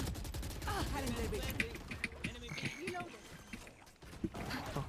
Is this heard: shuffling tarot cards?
no